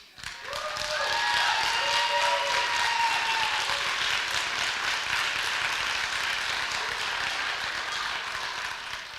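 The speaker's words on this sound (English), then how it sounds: "The applauding, the yelling, I get where your emotion is." An audience at a school district community forum bursts into loud, sustained applause, with scattered shouts and whoops rising early on, filling the room close by for the whole stretch without any speech.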